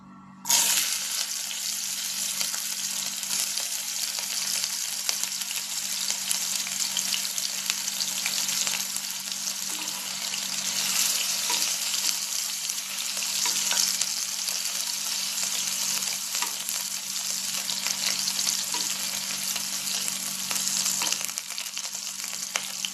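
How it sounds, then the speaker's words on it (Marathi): Chopped green chilies frying in hot oil make a loud, steady crackling sizzle that starts abruptly and continues close and unbroken, with no voices. "तेल गरम झाल्यानंतर त्यात कट केलेली मिरची टाकून घ्यायची आहे"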